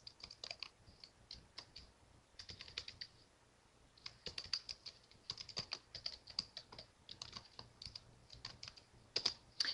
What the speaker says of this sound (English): I'm going to type her email address